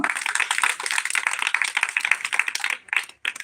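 A church congregation claps together in a dense, steady burst of applause that holds for a few seconds, then thins out and breaks off near the end.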